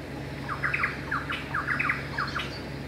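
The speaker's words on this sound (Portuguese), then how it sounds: "esses pássaros que estão cantando aqui, porque esses pássaros eu não conhecia" Birds sing near an ovenbird mud nest, a series of quick, bright chirps and short trills repeating across a few seconds over a steady low background hum, moderately close, with no talk.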